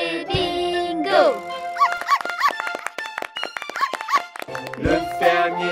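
A puppy's barks and yips sound in a French children's nursery song about a farmer's dog, short animated bursts repeating between sung lines over bright musical accompaniment.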